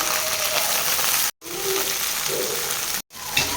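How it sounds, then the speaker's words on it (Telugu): Chopped onions and green chilies sizzle in two spoons of oil with cumin and mustard seeds, giving a steady, close frying hiss broken by two brief silent cuts. "ఉల్లిగడ్డ పచ్చిమిర్చి కలమ్మకి వేసుకుందాము"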